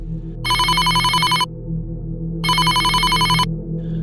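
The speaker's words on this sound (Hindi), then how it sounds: "तभी अचानक से उनके घर के फोन की घंटी बजी" A home telephone bell rings in two long bursts of rapid trilling with a pause between, loud and close over a low background hum.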